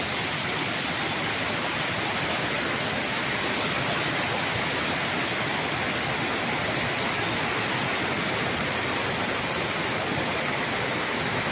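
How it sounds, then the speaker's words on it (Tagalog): Water pours continuously over a man-made irrigation waterfall beside a river in Majayjay, Laguna, a dense, even rushing roar with no pauses or voices. "Ayan, man-made falls."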